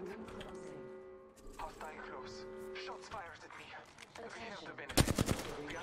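Video game gunfire crackles amid overlapping voices and game sounds, ending in a loud burst of rapid shots around the five-second mark.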